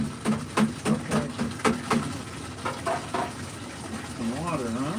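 Water runs and splashes beside a washer fitting in a plastic part, with rhythmic bursts of flow under a constant wash of sound.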